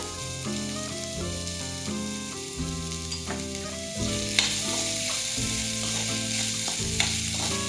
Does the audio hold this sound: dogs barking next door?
no